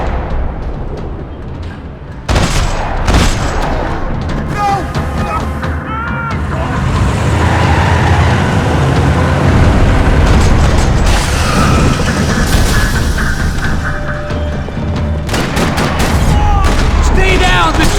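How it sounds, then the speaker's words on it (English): Repeated gunfire bursts and heavy booms fill a parking lot firefight in the video game Max Payne 3, loud and dense throughout, with sharp transient shots layered over rumbling explosions and voices calling out amid the din. "Another parking lot rattling with gunfire."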